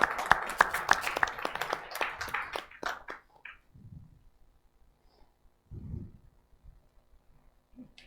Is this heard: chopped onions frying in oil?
no